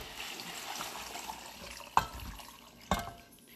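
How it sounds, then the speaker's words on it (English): Water from a tap runs and pours into a cooking pot of butter beans, a steady hiss with two sharp splashes or clunks near the end, and no talking. "So we're going to add the water to the pot."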